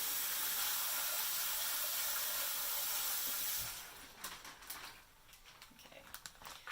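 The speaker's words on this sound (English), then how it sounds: "I'm gonna add like a little bit of water first to begin with." Water poured into a gallon freezer Ziploc bag standing in a pot, a steady loud hissing rush for several seconds that stops abruptly, leaving faint drips and small rustles.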